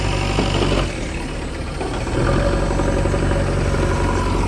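A low, steady tractor engine idles close by with a continuous rumble, dipping slightly for a moment before settling back to a constant drone.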